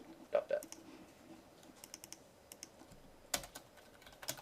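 Faint, scattered keystrokes sound as C++ code is typed on a computer keyboard, with a few louder clicks and a lecturer's voice around them.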